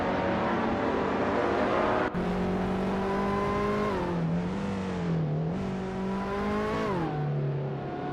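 Nissan 370Z Nismo GT4 race car engines in a racing game, a loud sustained droning whine that rises and falls through gear changes, with a brief dip and continuous engine tone throughout.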